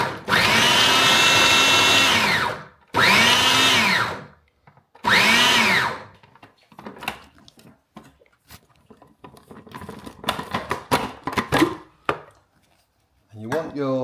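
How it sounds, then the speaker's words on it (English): A food processor pulses on red pepper and celery in three short loud whirring bursts, each a couple of seconds, followed by clattering and handling sounds of the bowl and lid. "Okay, I've got the red pepper and the celery in the food processor."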